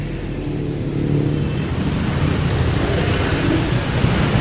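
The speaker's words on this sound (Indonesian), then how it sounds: "Ini ada warga baru knalpot ngorok warga baru Gabel." Bus of the Warga Baru Gabel line with a loud, growling modified exhaust, creeping through a traffic jam on the Pantura road, a continuous deep rumbling roar with rising revs, heavy and close throughout.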